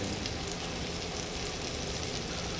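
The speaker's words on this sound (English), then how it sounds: "we're going to add our meat into the hot pan and let it brown" Meat for a pot roast searing in a hot pan, a steady close sizzle that holds evenly at moderate level with no talk over it.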